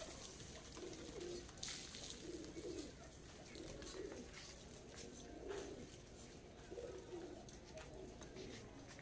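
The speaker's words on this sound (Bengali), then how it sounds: "পায়রা ওয়েট করছে খাওয়ার জন্য।" Pigeons coo in a low, repeated rhythm while waiting to be fed a protein-rich mixed grain feed, with a soft coo about every second or two over steady background hiss.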